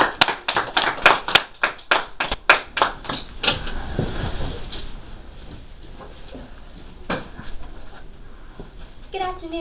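A school class claps by hand for a classmate's invention project, a burst of loud, distinct claps that thins into scattered, softer clapping with some background noise afterward.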